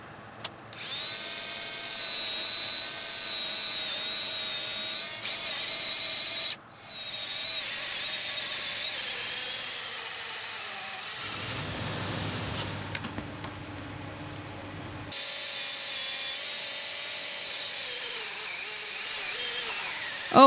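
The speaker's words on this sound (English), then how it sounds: "so I swapped to a steel brush on the angle grinder" An angle grinder spinning a steel wire brush cleans old wood, giving a steady high-pitched whine that briefly cuts out, then drops to a lower, rougher grinding tone before the whine returns.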